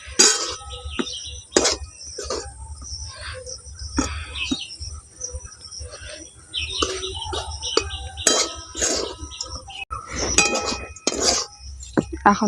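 A spoon clinks and scrapes irregularly against a pan as mango semolina halwa is stirred, with quick metallic taps and a soft background hiss.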